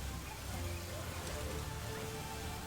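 Toxic Rain skill in the Path of Exile video game, played on Xbox, gives a faint, constant patter like rain on a surface, with a soft continuous hiss and no clear individual drops.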